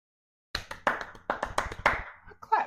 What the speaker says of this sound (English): I clap for you, man.